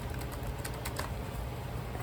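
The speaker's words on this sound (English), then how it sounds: "It's hard to shuffle." A large tarot deck being shuffled: a steady, close, papery flutter of rapid soft clicks over a low background hum.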